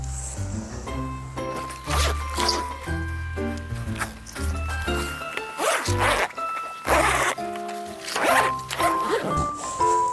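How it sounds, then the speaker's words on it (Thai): A large zipper on a Max Mountain Shelter tent with a floor is pulled closed in several quick, loud ripping strokes close by, with a voice speaking between them. "เสร็จแล้วเราก็รูดปิดทั้งหมดเลยค่ะ"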